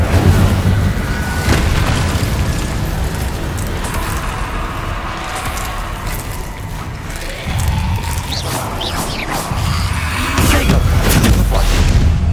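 Fire spell Incendio cast in Hogwarts Legacy gameplay, loud booming bursts that roll continuously over dense game noise, with a few sharper cracks.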